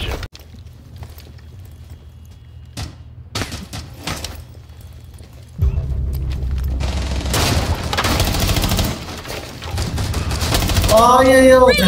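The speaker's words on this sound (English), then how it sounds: "yeah, just a missile." A missile explosion in Rainbow Six Siege strikes midway as a sudden loud blast. It gives way to sustained rumbling, crackling gunfire and debris, and a voice is heard briefly.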